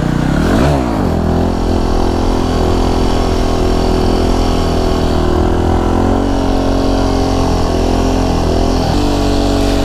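A scooter engine roars loudly and continuously during wheelies, close to the listener, with a brief rev swell near the start before settling into a sustained, heavy drone.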